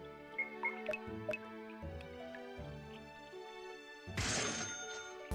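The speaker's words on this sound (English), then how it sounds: "Water never stops dripping in this world." Water dripping in the video game Motorslice: several sparse, hollow drips plink over sustained tonal ambience, ending in a brief wash of noise.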